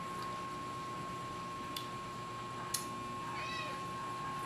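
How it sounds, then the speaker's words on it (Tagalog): A hungry pet cat meows, one clear rising call standing out over a steady hum and faint background noise, with a couple of sharp ticks earlier. "Nagniyaw na yung pusa ko."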